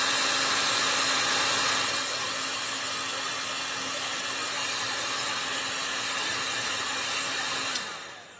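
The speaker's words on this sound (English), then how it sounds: "I use a heat gun. This is just a cheap heat gun. And I just heat shrink the shrink on here." A cheap heat gun shrinks tubing on the engine wiring of a 1995 Mercedes SL600. It blows a steady, close, hair-dryer-like whoosh with a faint hum, eases slightly early on, and clicks off near the end.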